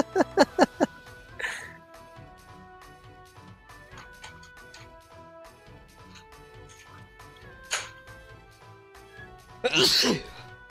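A sharp sneeze bursts out near the end over a quiet background of ticking and faint tonal hum, with a smaller sneeze-like burst earlier.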